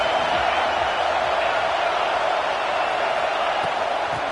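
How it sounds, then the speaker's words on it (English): A football stadium crowd roars in a loud, continuous wash of cheering and noise, with no clear breaks and no distinct voices standing out. "This crowd ready to make its presence known."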